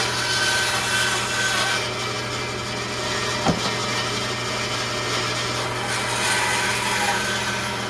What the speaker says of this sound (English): if you're ever looking for a good bandsaw, Rikon.